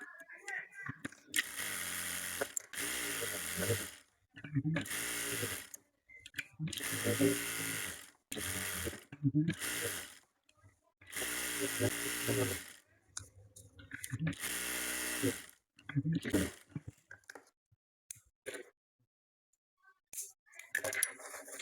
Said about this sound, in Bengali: এখন রাবারের উপর দিয়ে দুইটা সেলাই দেবো।